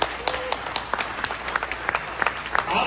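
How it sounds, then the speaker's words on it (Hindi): Enthusiastic applause from an audience at an Indian cultural gathering abroad, dense steady clapping through the clip with a few sharper claps rising above it. "आप लोगों के लिए एक जोरदार ताली हो जाए"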